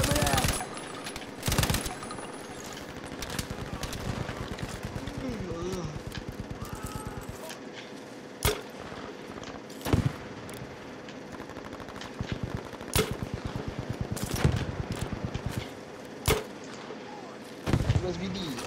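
Machine-gun fire rattles through a Battlefield V breakthrough battle: rapid automatic bursts mixed with sharp single gunshots and heavier blasts, fairly close and loud, with voices speaking intermittently among the shooting.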